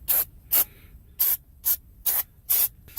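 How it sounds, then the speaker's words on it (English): Brake cleaner sprays onto a Mitsubishi Evo X drum brake assembly in short, loud hissing bursts, seven close-up blasts evenly spaced with brief silent gaps between them. "just spray it down with some brake cleaner"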